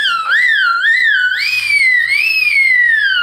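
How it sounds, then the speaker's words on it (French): A singer voices a high whistle-register exercise, a loud, pure, piercing tone that wavers up and down in gliding sweeps and then holds, slowly descending, alone. "je vais aller checker quand même ma voix de sifflet comme tout à l'heure"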